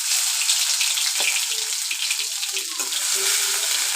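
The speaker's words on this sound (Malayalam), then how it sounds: "ചൂടായി വരുമ്പോൾ ഇഞ്ചി വെളുത്തുള്ളി പേസ്റ്റ് ഇട്ട് കൊടുക്കുക" Ginger garlic paste sizzles steadily in hot coconut oil, a close, continuous crackling hiss with small pops and a few faint scraping touches, no talking.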